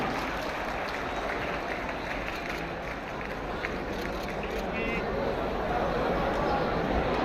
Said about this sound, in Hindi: तालियों की आवाज के साथ, करतल ध्वनि के साथ आप सबकी शुभकामनाएं भी तारावती जी और अशोक कुमार जी के लिए